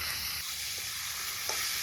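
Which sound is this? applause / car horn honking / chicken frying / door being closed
chicken frying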